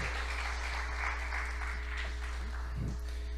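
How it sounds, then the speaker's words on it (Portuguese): Church congregation applauding after a call to praise, a steady wash of clapping with a continuous mains hum underneath, no speech over it. "diga bem forte amém e aplauda Ele, em nome de Jesus"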